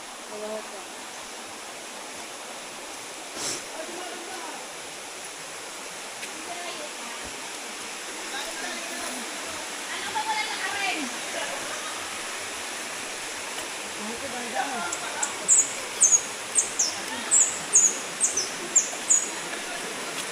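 Forest stream rushing and cascading over rocks in Bicol, a steady broadband wash of water throughout, with brief faint bird chirps near the end and soft background voices.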